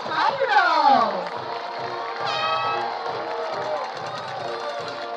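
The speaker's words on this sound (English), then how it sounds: "give a round of applause for the Mount Pleasant High School Tiger Dolls" High school crowd cheering and whooping for the Mount Pleasant High School Tiger Dolls dance team, loud shrill shouts at first, then a steady din of voices and claps.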